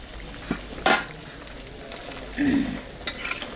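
Katla fish curry broth simmers in a pan with a soft steady bubble, broken by a few sharp scrapes and clinks of stirring, close and moderately quiet.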